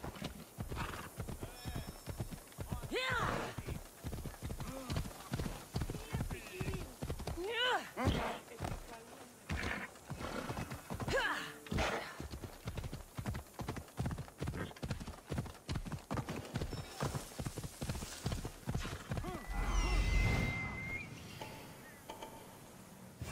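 Horse hooves pounding in a steady clip-clop gallop in Assassin's Creed Odyssey, a continuous rhythmic run lasting throughout, with a neigh and some speech layered over the hoofbeats.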